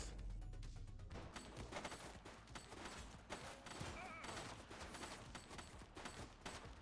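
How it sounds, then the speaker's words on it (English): Rapid gunfire bursts in the police video game The Precinct, dense overlapping shots throughout at close range, with voices calling out over the shooting. "Shots fired!"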